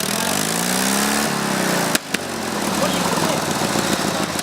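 Racing lawnmower engines run loud and steady at a Saco race event. A sharp clack cuts in around the middle, then the engine drone carries on, rough and busy, with crowd and announcer noise mixed underneath.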